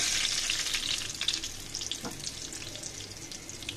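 Egg and onion fry in a pan with a bright, close sizzle as the mixture is stirred and flipped, with a brief scrape partway through and the frying easing slightly toward the end.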